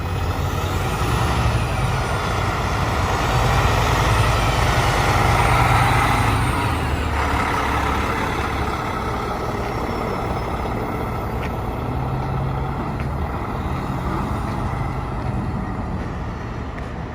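A Peterbilt 389 truck on a test drive gives a steady, loud engine rumble with road noise, continuous throughout and swelling slightly partway through, with no talking.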